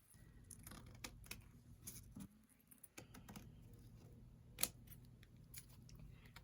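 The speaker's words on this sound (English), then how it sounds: "I'm just going to trim real close to the envelope, trying not to cut the paper because I don't want to dull my fabric scissors" Fabric scissors snip through paper while trimming close around an envelope, giving a run of crisp, irregular cuts with one sharper, louder snap partway through, all fairly near and with no talking.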